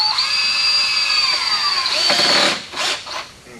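A power drill drives a Tapcon screw into a header during a column installation, whining steadily with a falling pitch for about two seconds before stopping, followed by a few short bursts of the motor.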